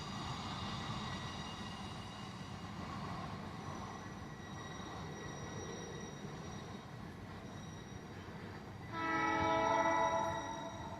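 A container train rumbles steadily past at a distance, wheels clattering, then a horn blares loudly near the end.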